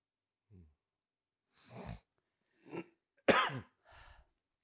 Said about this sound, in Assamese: মোৰ ডিষ্টাৰ্বেঞ্চ হৈ আছে কাহটোৰ কাৰণে